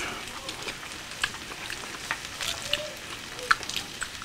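Garlic frying in a pan at home, a soft steady sizzle with scattered small pops and crackles, fairly close and unaccompanied by talk.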